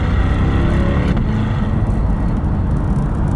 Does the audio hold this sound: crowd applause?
no